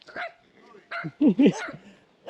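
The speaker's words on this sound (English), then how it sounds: "Now this is a scary dog right here." A dog barks several times in short yips and woofs at close range, mixed with a person's voice talking to it.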